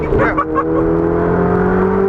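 A Ferrari 488 Spider engine pulls hard under acceleration, a loud, steady, close-up drone with a few brief stutters at the start, heard from inside the car with a voice faintly over it.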